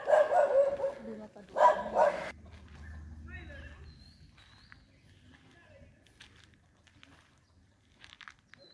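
Dogs barking at a Buddhist temple in Thailand, a few loud close barks in the first two seconds, followed by quieter outdoor ambience with faint distant sounds.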